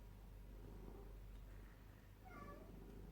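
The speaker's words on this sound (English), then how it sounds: "excuse my cat for meowing" A cat meows a few times close to the microphone, with a steady low hum underneath and no talking.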